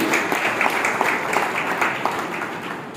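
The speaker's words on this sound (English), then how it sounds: "please give a big round of applause" A crowd claps together in a dense, steady round of applause that holds at an even level for a few seconds.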